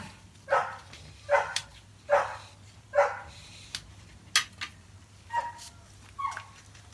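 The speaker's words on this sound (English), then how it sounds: "Dogs are kicking off, of course." Dogs bark in a run of about eight sharp, separate barks at moderate distance, spaced roughly evenly, with the last few barks turning higher and thinner like yips against a faint low hum.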